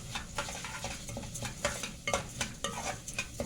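Orzo stirred in a pan with wilted onion, frying with a steady sizzle and irregular scraping clicks from the spoon against the pan, close and moderately loud, with no talking.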